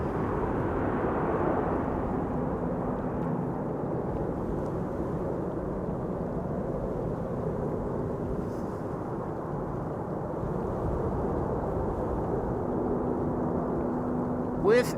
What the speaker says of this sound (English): KLM flight 924 arrival from Edinburgh.